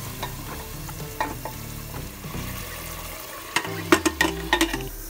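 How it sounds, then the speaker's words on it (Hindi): Gobhi gosht, a mixture of cauliflower and meat with a little added water, is stirred in a pot, giving intermittent scraping and sloshing strokes over a steady low sizzle, busier and louder toward the end. "हल्का से मिक्स कर देंगे।"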